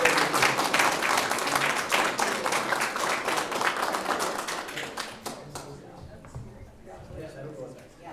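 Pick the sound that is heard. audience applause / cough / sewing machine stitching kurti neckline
audience applause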